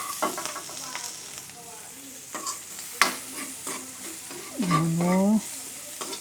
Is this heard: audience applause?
no